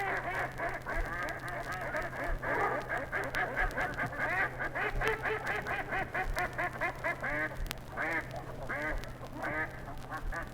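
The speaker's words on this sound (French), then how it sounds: "Le canard noir. Le cri de la femelle est composé de 9 coins, 2 longs et 7 courts" A female black duck gives a long run of loud, nasal quacks, steady and repeated at close range, with no talking over them.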